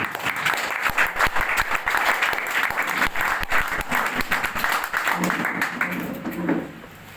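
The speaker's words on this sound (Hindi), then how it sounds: "मैं चाहूंगा इस शानदार और जानदार प्रोडक्ट के लिए अब तक की सबसे धमाकेदार और जानदार ताली होनी चाहिए।" An energetic crowd at a product presentation and training event bursts into loud, sustained applause lasting several seconds, with sharp individual claps standing out before it thins toward the end.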